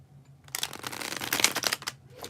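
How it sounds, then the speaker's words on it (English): A deck of playing cards gets a bridge shuffle during a tarot-style reading, giving a quick, close ripple of riffling cards that lasts about a second and a half with no voice over it. "When I do the bridge shuffle for you, Capricorn."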